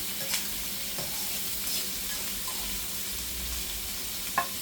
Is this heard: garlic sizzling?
yes